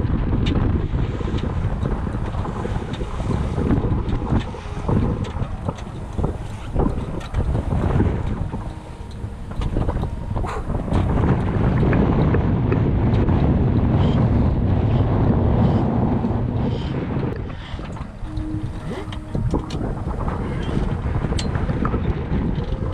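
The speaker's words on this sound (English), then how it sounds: "there's almost nothing better than the sound of the wind and waves just rushing past the hull" Wind and waves rush loudly past the hull of a reefed sailboat beating into 45-knot winds between IJmuiden and Vlieland, with a constant roar, heavy buffeting gusts and surging water throughout.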